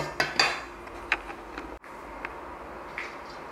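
Pastry scraper pressing and cutting butter into egg tart dough, a few close scraping and tapping knocks against the bowl or board, then quieter stray clicks.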